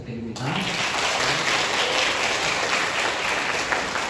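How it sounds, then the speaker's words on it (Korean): Welcoming applause from a gathering at an altar server training session, a sustained wash of clapping that swells in after a short pause and continues evenly to the end, with a voice briefly heard at the start. "환영의 박수 부탁드립니다"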